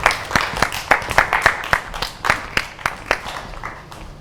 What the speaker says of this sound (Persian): بفرمایید بچه تشویقشون کنین لطفاً